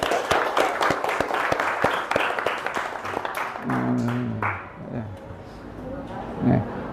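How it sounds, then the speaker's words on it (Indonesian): A classroom group receives applause from students, dense clapping for several seconds that fades into murmured voices and talk near the end. "kita beri aplaus kepada kelompok 5"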